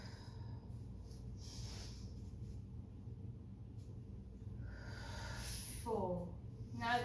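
Long, slow exhaled breaths during a yoga flow, soft and close, with a quiet airy hiss and a faint voice near the end.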